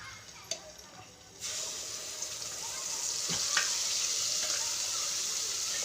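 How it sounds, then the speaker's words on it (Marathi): Black masala frying in a mix of ghee and oil, a steady hiss that starts low and swells into a loud, continuous sizzle, with a few faint clinks of stirring. "आता आपला मसाला आपण फ्राय करून घेऊया"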